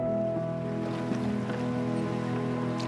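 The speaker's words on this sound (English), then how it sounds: "Here we are rowing on this estuary in North River." Rowing boat on an estuary in North River: continuous close water wash and lapping around the hull, with a steady low tonal hum underneath and no speech.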